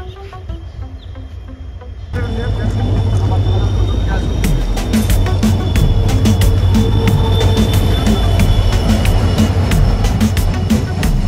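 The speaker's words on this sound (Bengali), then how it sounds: "আর পিছনে ট্রেন আসতেছে" A train approaching a station platform, a steady loud rumble that swells in after a couple of seconds and continues, with sharp clanks and rattles over it and faint voices nearby.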